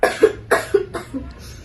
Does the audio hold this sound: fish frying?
no